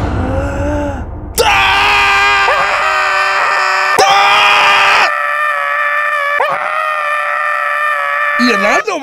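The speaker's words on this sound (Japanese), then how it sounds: "いや、なんでお前が叫んでんだよ。" A person screams loudly in a long, sustained high-pitched cry that lasts several seconds, wavering slightly and breaking briefly near the middle, after a short noisy lead-in.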